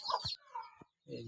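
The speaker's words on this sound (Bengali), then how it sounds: "এখন এই যে এখানে মুরগি ডিম পাড়তেছে" A laying hen on a small farm clucks while laying eggs, giving a few short close calls with a brief gap between them, and there is no talk.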